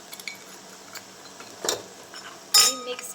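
A spoon stirs turmeric into fried onions in a pan, giving a few light scrapes and then a sharper metallic clink near the end against a quiet background.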